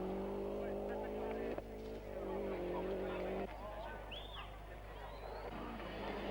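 Miki Biasion's rally car passes on a stage of the 1990 Rally Portugal with a steady engine drone that drops away partway through, heard faintly behind a continuous background hiss.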